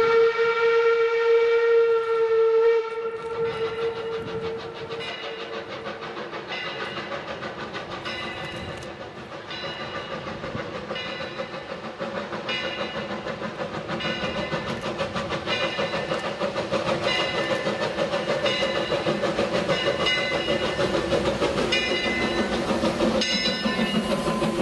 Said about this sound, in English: ENP number 4 has run about a mile north of the Cascade Canyon Y to perform one last northbound run-by at the Through Truss Bridge over the Animas River.